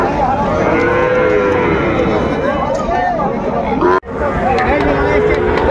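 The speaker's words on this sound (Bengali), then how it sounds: "এখানে ছোট্ট ছোট্ট ষাঁড় বাচ্চা সংগ্রহ করছে মমিনুল ভাই।" Young bull calves at a cattle market mooing repeatedly, some calls close and loud, over a steady background of crowd chatter and babble.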